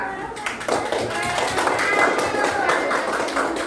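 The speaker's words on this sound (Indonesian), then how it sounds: "tepuk tangan dulu untuk kelompok 2." Applause from a class for a group, a steady patter of many hands clapping nearby for a few seconds.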